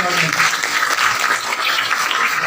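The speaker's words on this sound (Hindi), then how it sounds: "जोरदार ऑडियंस हमारी अपने लिए तालियां बजा दो एक बार।" An audience claps at a Brahma Kumaris Janmashtami quiz event, steady dense applause throughout, loud and close, with a host's voice partly over it.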